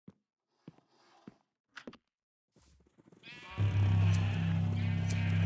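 Goats bleat in a pen in Minecraft: a few quiet knocks and shuffles first, then a loud, sustained, wavering bleat that swells and holds to the end.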